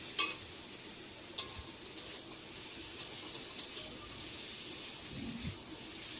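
Fried snails and potatoes are stirred in a spicy curry in a village-style kitchen, with a soft steady sizzle and hiss and a few sharp scraping knocks of the spoon against the pan.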